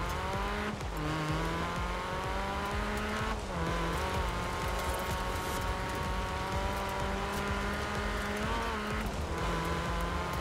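Racing car in Forza Horizon 4 driving steadily, a continuous loud engine drone with harmonic pitch sweeps as gears shift around a few points, plus some tire noise, no talking.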